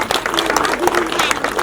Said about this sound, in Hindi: तो हम सब उनका भी तालियों से स्वागत करेंगे।